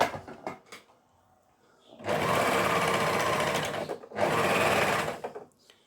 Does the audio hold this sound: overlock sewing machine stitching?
yes